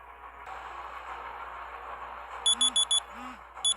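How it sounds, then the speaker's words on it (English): An alarm clock rings in a detective game, Murder in Black Alley: quiet room tone first, then two bursts of sharp, rapid electronic beeps, four pulses and then two more, clear and close. "Alarm's going off"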